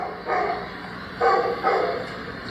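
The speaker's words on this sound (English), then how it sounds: "it sounds like the barking is coming from a literal speaker." A dog barks through a loudspeaker in a neighborhood, three muffled, distant-sounding barks spaced unevenly over a low background hum, with no one talking.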